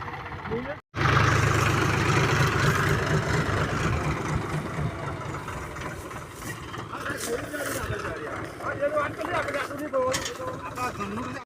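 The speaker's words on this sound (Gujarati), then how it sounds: "મિતલા કાકા નવો ટ્રેક્ટર લઈને આવી ગયેલા છે" A new tractor, a 5310, runs its engine with a steady, loud mechanical drone close by that eases somewhat toward the middle, while voices talk over the engine.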